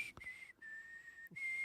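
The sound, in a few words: human whistling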